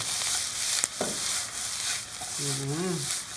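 Shrimp being stir-fried with curry powder in a pan, a soft continuous sizzle with occasional scrapes of stirring, fairly quiet, plus a brief tonal whine near the end.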